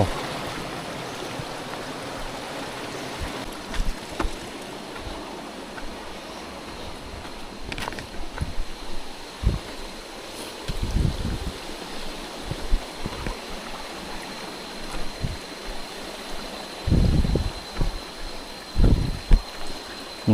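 Steady rushing water of a waterfall stream pours over rocks close by, a constant broad hiss with occasional low knocks and thumps mixed in.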